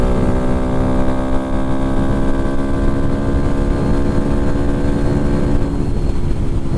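A 2022 Honda Grom fitted with a Kitaco oil cooler cruising at 50 mph in fourth gear, its small engine buzzing steadily and loud with wind rush, pitch easing slightly near the end.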